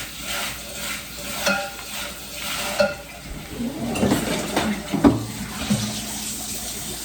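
Water splashes and swishes as a container is rinsed during goat milk soap making, with irregular sloshing and clattering close by, growing busier toward the end.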